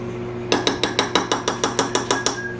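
A utensil stirring General Tao sauce in a pan, knocking against the side in a steady run of about a dozen sharp, evenly spaced clinks close by, with no talking.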